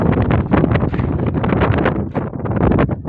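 Strong wind gusts in a snowy village during a blizzard after heavy snowfall. The blowing roars steadily and loudly across the whole stretch, buffeting the microphone with constant rumbling wind noise.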